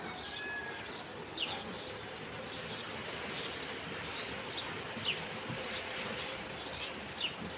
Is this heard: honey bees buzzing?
yes